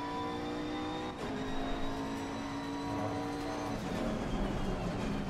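McLaren 650S GT race car engine in Assetto Corsa Competizione at the Red Bull Ring, a steady continuous drone with a brief dip and shifting pitch, loud and unbroken with no talk.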